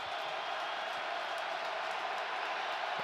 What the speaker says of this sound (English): This is tough communication here with the crowd noise.